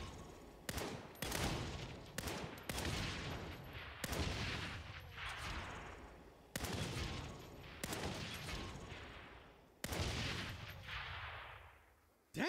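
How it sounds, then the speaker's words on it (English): Gunfire in the Saints Row video game comes in repeated sharp bursts of shots, each followed by a decaying echo. The shots land in several clusters across the clip, loud and with no talk over them. "I like to pretend there's a little white dot or crosshairs on whatever I'm shooting at, and then just aim for it."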